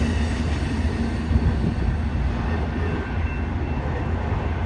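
Amtrak passenger train rolling past, a loud, steady rumble and rush of wheels on rail close by, with no voices.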